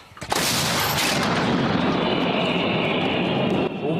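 A single deafening blast from an artillery gun firing, followed by a sustained roaring rumble and hiss that fills the whole clip.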